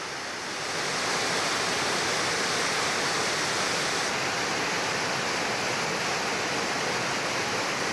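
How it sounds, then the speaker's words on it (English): A small waterfall in the Eastern Sierra Nevada pours over rocks in a constant, full rushing roar that swells in the first second and then holds steady and close throughout. "A short time later, we came up to a small waterfall."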